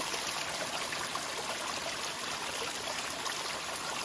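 A small stream trickles steadily along the Ozark Highlands Trail, its silty runoff water babbling close by in a continuous, even wash with no voices over it.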